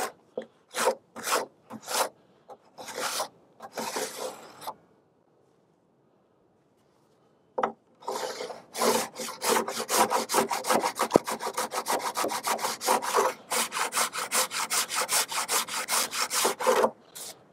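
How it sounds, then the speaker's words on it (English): Rhythmic hand sanding on the damaged wood of a vintage 1980s Williams Joust arcade cabinet, rapid rasping back-and-forth strokes, a pause of a few seconds, then a long steady run of close, brisk strokes. "Oh yeah, lots of sanding."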